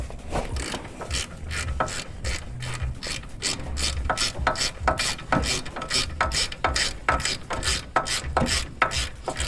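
An electric ratchet spins loose bolts on a lifted Volvo XC70 during a lift kit install, producing a long run of rapid, loud, close clicking bursts in an even rhythm, with low whirring underneath.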